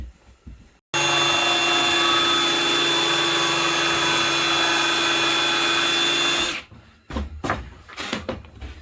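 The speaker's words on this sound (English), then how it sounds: "I'll get my T25 bit and I'll put my screw in on a 45" A power driver with a T25 bit sinks screws at an angle into wall studs during a tiny house accent wall build: one loud, continuous whirring run of several seconds, then a few sharp clattering knocks.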